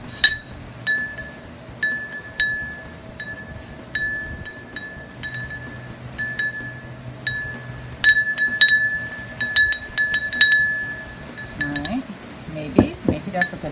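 A handmade wind chime of cut glass bottle pieces clinking together, bright ringing glass strikes in loose irregular clusters, some close and sharp, some lighter, with a soft background rumble underneath.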